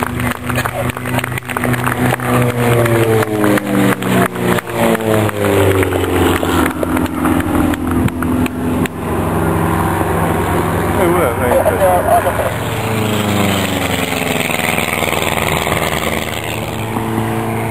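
The metal engine of the Twister Duo, an all-wooden aerobatic aircraft, drones loudly at an air show, a buzzing propeller note that rises and falls in pitch as the plane passes, with a commentator talking over it.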